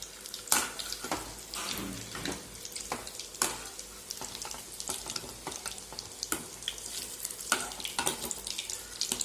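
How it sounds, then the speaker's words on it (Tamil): Chicken leg pieces fry in hot oil in a pan, giving a steady close sizzle with scattered sharp crackles and spatters, with no voices. "இப்போ நம்ம இந்த லெக் பீஸ் இதில் போட்டுக்கலாம். அது ஒரு பக்கம் நல்லா வேகட்டும்"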